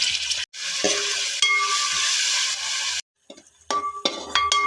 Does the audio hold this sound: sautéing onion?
yes